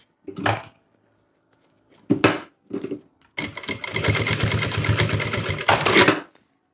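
A sewing machine stitches a shoulder bag strap folded with a one-centimetre margin: a few short stitch bursts, then a longer continuous run of steady, close mechanical whirring with no talk over it.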